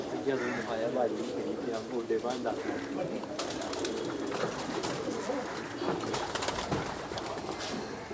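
Racing pigeons coo in soft, repeated low murmurs throughout, partly under someone talking close by.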